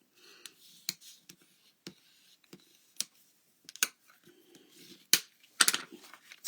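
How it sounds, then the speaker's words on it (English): A sheet of 8.5 by 5.5 cardstock is folded in half by hand, giving scattered sharp creasing clicks and soft rubbing scrapes close by with quiet gaps between them, and no voices. "I'm just going to fold it in half"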